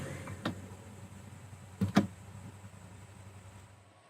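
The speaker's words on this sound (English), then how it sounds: "you'll obviously want to put down and raise your spirit of ecstasy" A Rolls-Royce Spirit of Ecstasy hood ornament retracts and rises on its small electric motor, giving a brief whir with a couple of soft mechanical clicks and thuds in a quiet car interior.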